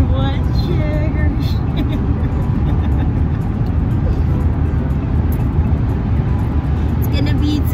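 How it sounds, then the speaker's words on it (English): SUV driving along a road, giving a steady low engine and road rumble heard from inside the cabin, with people talking over it throughout. "We started driving about 10 minutes ago."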